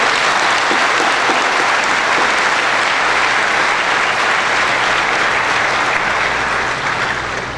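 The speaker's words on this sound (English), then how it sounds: "Let's have a heavy applause, full-blown applause for all of them." A large convocation audience at BITS Pilani's Pilani campus gives loud, full-blown applause, a dense and continuous wash of clapping that holds steady throughout.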